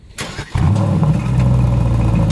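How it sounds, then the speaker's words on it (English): A powerful SUV engine starting in its standard start mode: a brief starter crank, then the engine catches with a loud surge and settles into a deep, steady, rumbling idle close by. "Now, I turn on the car, pay attention to what you hear."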